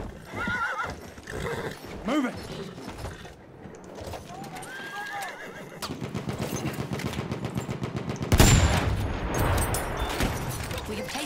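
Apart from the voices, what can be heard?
horse galloping and neighing in video game Battlefield 1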